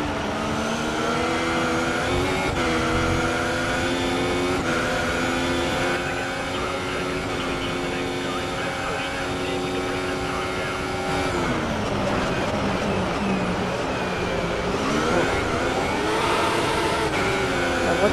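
A Formula 1 race car engine in the F1 2014 video game screams at high revs, its steady, loud whine rising and falling in pitch as the car shifts and corners.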